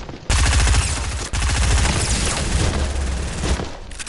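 Rapid SMG fire from Fortnite Battle Royale, loud dense bursts of shots with a short break after the first burst, then a long sustained volley.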